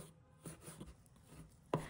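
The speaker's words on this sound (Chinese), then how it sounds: "再切成小块，" Pork belly with a fat-to-lean balance, cut into small pieces on a kitchen board: a few soft, close knife chops and taps spaced irregularly, ending in a louder cut, with no voices.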